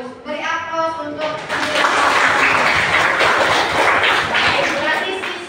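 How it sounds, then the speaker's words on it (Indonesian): Classroom of students breaking into applause, a brief voice first, then a dense burst of clapping that swells and holds steady, filling the room at close range. "Beri aplaus untuk"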